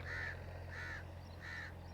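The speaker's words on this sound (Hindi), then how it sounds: "वो रहा कौवा" A crow caws three times in an even rhythm, clear and fairly close, over a low steady hum with no talking.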